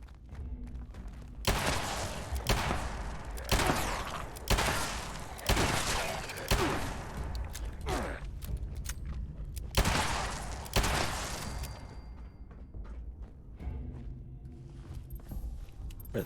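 Gunfire in Fallout 76 during combat with Brotherhood of Steel enemies: a dozen or so sharp, loud shots and short bursts come at irregular intervals over several seconds, then fade to quiet in-game ambience.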